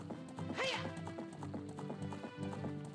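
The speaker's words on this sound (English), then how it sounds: "We're riding a horse." A horse gallops in The Legend of Zelda: Ocarina of Time, with rhythmic clip-clop hoofbeats over game music and a short whinny near the start.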